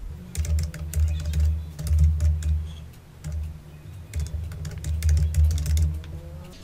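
Rapid typing on a computer keyboard while entering an email password for a MikroTik router setup, close and clear, in steady bursts with brief pauses and no talking.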